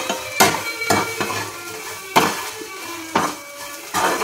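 Bitter gourd and masala being sautéed in a pan over low heat, with a spatula scraping and knocking against the metal several times over a quiet background sizzle.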